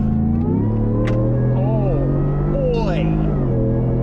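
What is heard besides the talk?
Hennessey Venom 800 truck accelerating up an on-ramp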